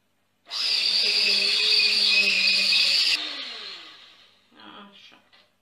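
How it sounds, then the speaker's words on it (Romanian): Electric hand mixer whipping a blend of whipped cream and mascarpone. It runs loud and steady for about three seconds, then winds down, and a few short bursts follow. Nobody talks over it. "Acum o să amestecăm puțin și cu mixerul."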